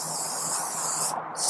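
An aerosol spray paint can hisses steadily and loudly while paint goes onto space-themed art. The spray cuts off briefly, then bursts back on.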